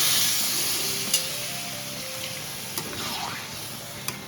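Water added to fried spice masala in a pan for a Bengali chitol fish curry, making a steady soft sizzle with occasional light taps of a spoon against the pan; faint voice in the background.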